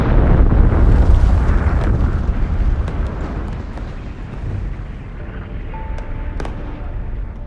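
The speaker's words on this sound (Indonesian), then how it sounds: "ledakan dan suara tembakan yang terdengar di seluruh penjuru kota" A deep, rumbling roar like a large explosion fills the scene, slowly fading, with a few sharp cracks like distant gunshots scattered through it, explosions and gunfire across a city.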